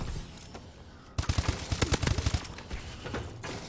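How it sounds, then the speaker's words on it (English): Gunfire in the video game Call of Duty: Advanced Warfare, a rapid burst of shots starting suddenly about a second in and continuing as a dense, moderately loud volley before trailing into a few scattered, fainter shots. "Alright, I hear someone shooting around me."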